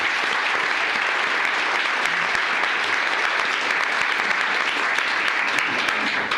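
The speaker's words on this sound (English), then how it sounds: "let's give him a big round of applause" An audience at a county commissioners court meeting breaks into dense, sustained applause, a steady wash of clapping that fills the whole stretch without letting up.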